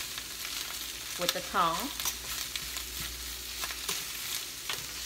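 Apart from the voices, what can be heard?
cabbage frying in olive oil, moved around with tongs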